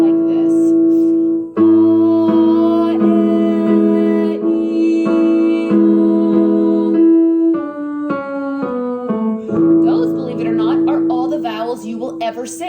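A singer's vocal warm-up moving through the vowels ah, e, o and oo, sustained sung tones stepping up and down in pitch over a steady piano accompaniment, loud and close, with no speech.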